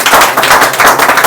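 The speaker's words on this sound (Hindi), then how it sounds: "इनके जोरदार तालियां बजाना" Loud, dense clapping from a seminar audience in Bhager, Bilaspur, Himachal Pradesh, welcoming a guest; steady, continuous and close, with no talk over it.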